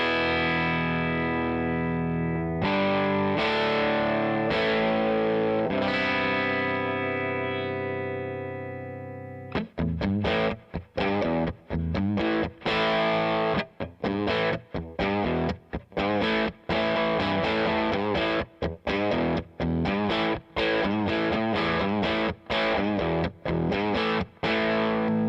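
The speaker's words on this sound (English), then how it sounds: "So this is what this guitar sounds like clean." Clean electric guitar on the neck pickup, run through a Keeley Oaxa pedal on its phaser and univibe setting: sustained chords ring out, then a run of choppy rhythmic strums with a swirling modulated tone, loud and alone.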